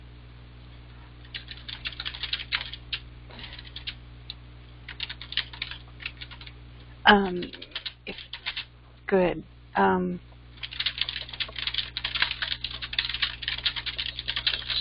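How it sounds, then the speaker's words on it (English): Rapid clattering on a computer keyboard, close and continuous, in bursts across the stretch, broken midway by a few short spoken words over a steady background hum. "Sorry about my typing there."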